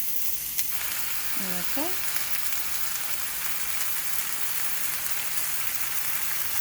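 Ground turkey meat sizzles steadily in a hot pan, a continuous broadband hiss of frying that holds level throughout, with a brief spoken word near the start.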